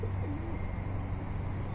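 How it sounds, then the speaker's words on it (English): Pigeons cooing at ground level outdoors, low soft coos set against a steady, loud background rumble, close by and with no talking. "for this beautiful pigeon footage."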